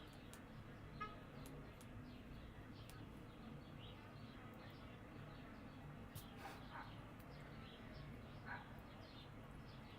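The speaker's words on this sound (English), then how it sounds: "There's a dog barking outside, so I'm sorry if you can hear that." Outside, a dog barks faintly and at a distance, with scattered yips sitting low under a steady hiss of room and street noise across the whole stretch.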